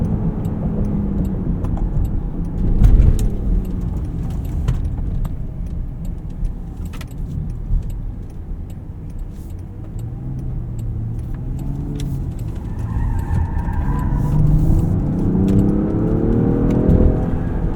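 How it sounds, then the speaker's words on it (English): Range Rover Sport Autobiography PHEV being driven, with a steady broad road-and-tire roar and low engine hum throughout, plus faint rattles and a jangling of keys inside the cabin, no talking. "Tires are quite vocal here."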